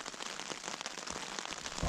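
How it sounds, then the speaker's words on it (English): Rain pattering on a tent at a wild camp, a soft, steady patter of close drops with no talking, a little louder toward the end. "Rain has started now."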